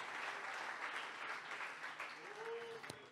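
Congregation in a church applauding steadily for about three seconds, a dense, even wash of clapping with faint voices mixed in.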